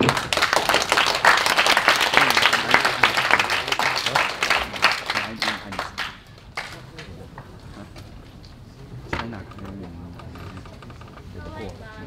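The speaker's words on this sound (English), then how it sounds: "Clap as an order." Clapping from delegates at a youth Model United Nations session after a motion passes, a dense burst of many hands for about six seconds that thins to scattered claps and room noise, with some talk underneath.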